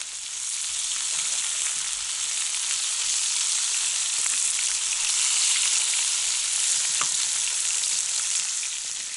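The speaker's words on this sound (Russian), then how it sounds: "Щука, ребята, жареная сегодня будет." Pike fillets fry in a pan, giving a steady, loud, close sizzle with a constant hiss and faint crackles throughout and no voices.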